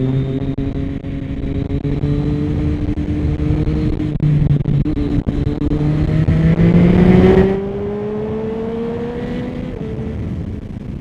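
A motorcycle ridden hard on a city street with a tank bag fitted climbs steadily through the gears, its loud rising engine whine peaking then easing off as the rider backs off the throttle.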